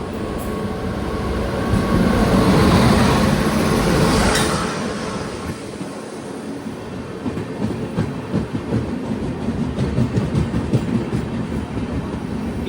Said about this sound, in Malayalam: ജാംനഗർ തിരുനെൽവേലി ഇതാ കടന്നു വരികയാണ്.